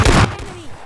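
A single loud, sharp Kar98 rifle shot in PUBG Lite, a brief blast followed by a short fading ring.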